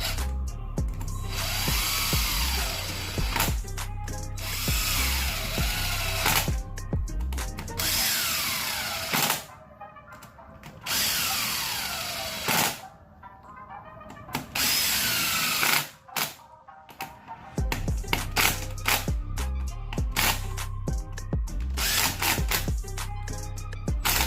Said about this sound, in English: My old trusty DeWalt. Gonna just snug them up.